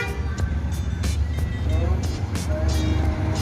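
A bus of the MPM (Mutia Putri Mulia) line rolls in, a steady low engine drone under repeated sharp clicking transients, with road traffic noise around it.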